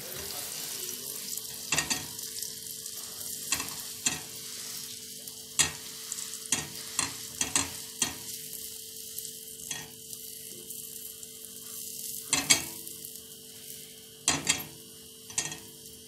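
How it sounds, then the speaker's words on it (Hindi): Pav buns toasting in butter on a hot pan for pav bhaji, with a steady sizzle under repeated clinks and scrapes of a spatula against the pan, close and lively. "अब हम पाव को गर्म करेंगे। थोड़ा सा बटर लगाएंगे।"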